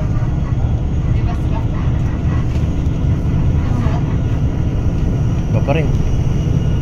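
Small private airplane with a steady engine drone throughout, people talking over it.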